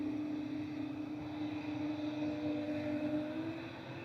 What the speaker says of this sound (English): Shuttle to Lima just about touchdown from London Heathrow for BA